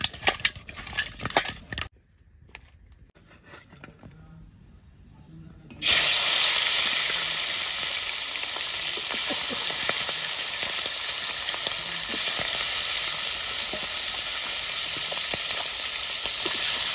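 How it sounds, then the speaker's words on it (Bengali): A fish head coated in salt and turmeric fries in hot oil. Quieter clatter comes first, then a loud, continuous sizzle takes over and holds steady to the end. "এবার নুন হলুদ মাখাই ভাজে নেবো।"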